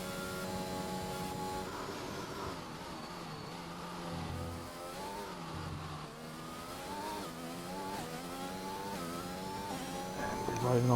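A race car in a racing game exits Monza's final corner, its engine whining through rising and falling gear shifts. A commentator speaks over it, and the engine note grows louder at the end.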